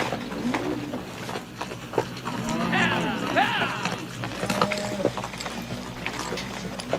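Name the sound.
horse hooves clip-clopping as it is ridden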